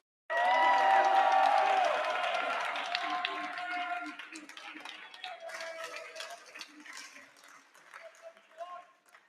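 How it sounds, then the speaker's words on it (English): A school crowd at a Friday football pep event cheers, whoops and claps loudly to welcome the head coach, the roar peaking at the start and then easing into scattered shouts and clapping that continue to the end. "they're only cheering because they're not in study hall right now"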